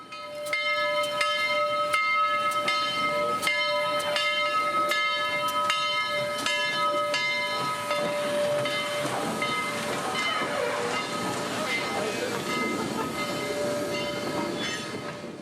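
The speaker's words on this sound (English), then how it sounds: "the steam special would round the curve from TVRM" Southern 4501 steam locomotive in green and gold livery hauls a string of vintage passenger cars around a curve, a loud steady rumble and hiss with rhythmic clanks, heard close and alone.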